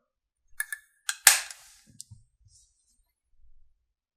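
An AR-15 upper receiver's dust cover, pushed open by a finger, springs into position: a few small clicks, then one sharp, close metallic snap with a brief ring, no talking.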